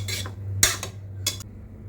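Lemon rice being turned over in a pan, with three short scraping, clinking bursts of a utensil against the metal, close and without speech.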